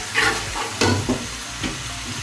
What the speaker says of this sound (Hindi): कुटी हुई सुरख मिर्च, नमक डाल के अच्छा सा इसको फ्राई करेंगे